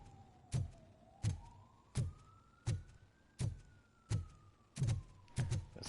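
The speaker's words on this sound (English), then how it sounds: "The sirens are doing that." A police siren in the video game Robocop: Rogue City wails softly in the background while sharp, loud thuds repeat at a regular pace over it.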